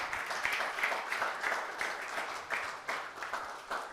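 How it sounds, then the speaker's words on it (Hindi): A church congregation in Pakistan clapping, a soft, rhythmic pulse of many hands heard somewhat distant and faint for a few seconds. "जोरदार तालियां बजा दें अपने लिए।"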